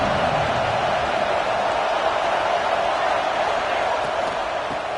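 Stadium crowd in a Madden football game, a steady, dense roar of many voices that holds at an even level throughout.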